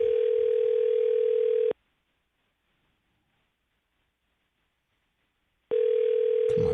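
A telephone line tone plays while a call to a cell phone goes through: a steady, loud tone cuts off into about four seconds of silence, then returns.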